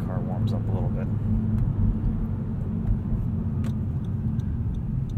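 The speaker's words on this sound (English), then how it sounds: "We'll do a few pulls up here, and you'll kind of get an idea for what acceleration is like once the car warms up a little bit" A 2017 Honda Civic Hatchback Sport with a six-speed manual pulls hard under acceleration, heard from inside the cabin as a steady low engine drone and road rumble, with a few faint ticks on top.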